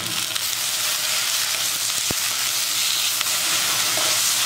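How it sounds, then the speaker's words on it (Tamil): Onions and tomatoes sautéing in a pan for cauliflower kootu give a steady, close frying sizzle with a few light stirring clicks, no voices over it. "பாருங்கள், வெங்காயம் தக்காளி நல்லா வதங்கிடுச்சு"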